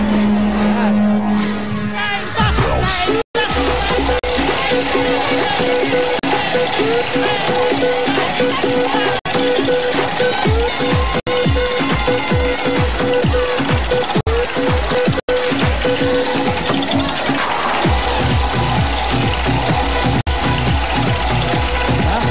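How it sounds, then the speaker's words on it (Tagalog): A roulette wheel spins on a live Filipino noontime game show, its rapid clicking ticks slowing toward the end beneath crowd noise, music and excited hosts talking throughout. "Spin The roulette."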